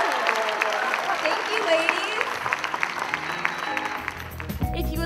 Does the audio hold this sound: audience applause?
yes